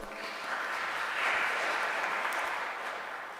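Applause from a congregation at a Sunday Eucharistic church service, a steady wash of clapping that swells in the middle and holds without a break.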